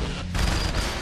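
Gunfire in the Saints Row: The Third video game, a brief dense volley of shots that blurs into a loud continuous rattle, short and close.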